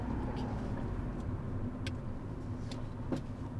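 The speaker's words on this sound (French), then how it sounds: "t'as une voiture qui arrive" A car drives past on a road, its steady engine and tyre hum filling the background under ongoing conversation, with no distinct rise as it nears.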